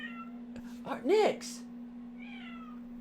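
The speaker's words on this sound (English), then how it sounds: "She's meowing pretty loudly." A house cat gives a single loud, rising-and-falling meow indoors, with a person's voice briefly heard nearby and a steady electrical hum underneath.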